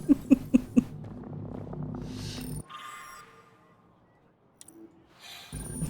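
Cat sounds from a museum exhibit in the video game Mass Effect Andromeda: four short, loud meow-like bursts open, followed by softer ambient game tones and a quiet stretch.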